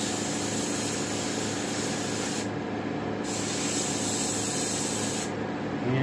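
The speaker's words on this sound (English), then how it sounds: "it's an airbrush. An airbrush only blows one way, so you're going to have to get it from different angles." Airbrush spraying paint onto a taxidermy turkey head, giving a steady close hiss of air that runs without a break, with brief shifts in tone as the nozzle is moved.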